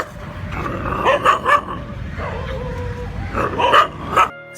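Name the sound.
street dogs barking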